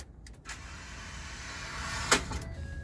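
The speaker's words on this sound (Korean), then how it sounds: "윙 하다 말죠. 이건 스타트 모터 불량입니다." Faulty starter motor on a Ford F150 whirring without the engine catching, a steady mechanical whine that swells slightly then cuts off with a click, heard close with no talk.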